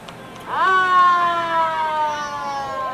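A 1955 black-and-white police car rolls through a Fourth of July parade in Chautauqua County, its siren swelling in abruptly and holding a loud, steady wail that sags slightly in pitch, with crowd noise faint underneath.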